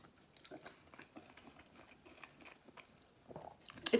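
Someone biting into and chewing a pepperoni pizza pop, soft close crunches and mouth sounds at low level, with a louder bite near the end.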